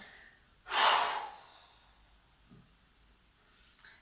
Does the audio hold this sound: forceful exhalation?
yes